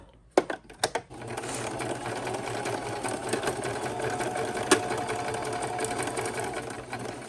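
A sewing machine stitching a ruffle ribbon made from vintage book pages and scrap paper strips, a few quick start-stop bursts followed by a steady, fast, close mechanical whirring run.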